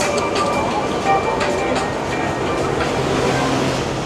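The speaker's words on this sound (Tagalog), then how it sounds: "Ang MRT kasi ay underground train." Bangkok MRT underground train in a station, a steady low rumble of rail noise with faint clicking and a braking tone building near the end, while a crowd murmurs nearby.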